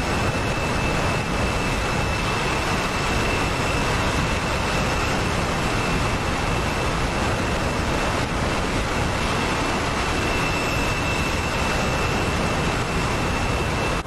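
B-1B Lancer and F-14 Tomcat jets flying low over the sea in a video game, a loud, constant roaring jet engine wash with a steady whine, unbroken throughout.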